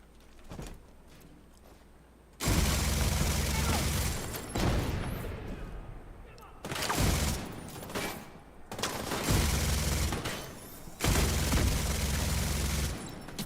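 Video-game gunfire from Division 2, fired from behind cover: several long, loud bursts of rapid shots separated by short quiet gaps, each burst a dense, booming rattle.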